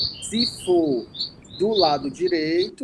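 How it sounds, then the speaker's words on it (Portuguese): Small bird singing outdoors, a series of bright high chirps and tweets heard close and clear, with a person talking over it. "Eita, tem um passarinho cantando aí."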